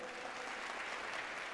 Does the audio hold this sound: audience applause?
yes